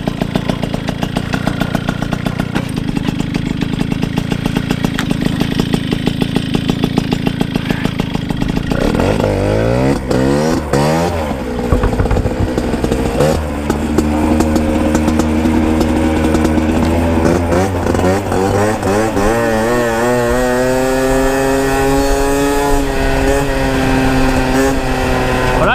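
A Peugeot 103 SP moped fitted with a Polini 70cc air-cooled kit rides along loud and close. The two-stroke buzz idles steadily, then revs and climbs through rising pitch sweeps as it accelerates.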